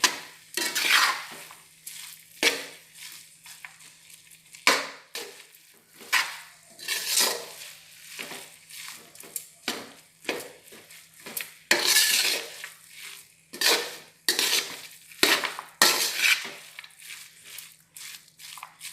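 Carrot halwa with khoa stirred in a pan over a low flame, a spoon scraping and clacking against the metal in repeated strokes with soft sizzling between them, close and steady with no voices.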